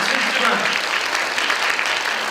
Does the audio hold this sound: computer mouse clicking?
no